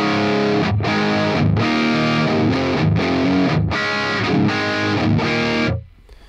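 Electric guitar through a Line 6 Helix with the Mega OS cab, loud distorted rhythmic chords in steady chugging bursts with short gaps, ending abruptly into a fading tail.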